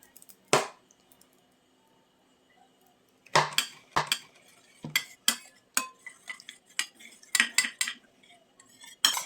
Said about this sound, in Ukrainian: І все ретельно перемішаємо.